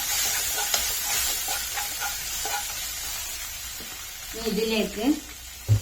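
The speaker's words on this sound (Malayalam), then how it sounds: "ഇഞ്ചിയും പച്ചമുളകും ചതച്ചതിട്ട് നല്ലോണം ഒന്ന് വഴറ്റുക" Crushed ginger and green chilli sauté in hot oil with a continuous close sizzle and light stirring, and a voice briefly murmurs toward the end.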